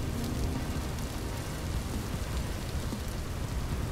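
Rain falls steadily in the Vintage Story game world, a constant close hiss of drops with a faint low rumble underneath and no voices over it.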